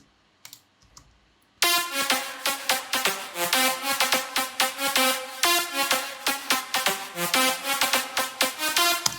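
A bright Future House synth lead plays a fast, punchy rhythmic pattern of short repeated notes, loud and upfront, after a brief quiet lead-in.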